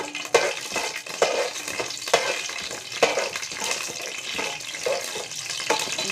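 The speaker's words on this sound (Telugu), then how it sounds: "మెంతులు, ఆవాలు లో ఫ్లేమ్లో ఫ్రై చేసుకోవాలి." Fenugreek and mustard seeds frying in hot oil over a low flame, a continuous crackling sizzle broken by regular stirring strokes about once a second, close and fairly loud.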